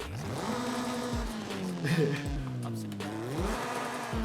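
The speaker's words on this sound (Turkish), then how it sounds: "Bir egzozunu dinleyelim." A racing-type exhaust on a modified car in the video game Forza Horizon 5 revs up and down repeatedly, its pitch sweeping high and low in loud, growling bursts.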